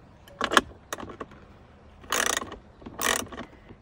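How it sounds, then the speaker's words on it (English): A ratchet with an 8mm socket and extension loosens screws on a Hellcat, giving several short bursts of rapid clicking with pauses between, close and clear with no talking. "remove this screw here and this screw here. You're going to need an 8mm socket, an extension, and a ratchet."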